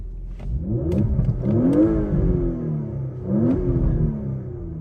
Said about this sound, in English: Let's give it a little rev while the windows are up.